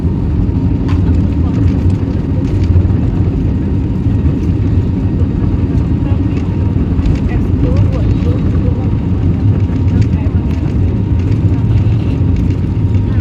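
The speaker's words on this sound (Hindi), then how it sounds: "जहाज हमारा टेक ऑफ कर रहे हैं।" Airplane taking off along a runway under a blue sky, a steady loud engine roar and whir filling the whole stretch, with talk heard over it.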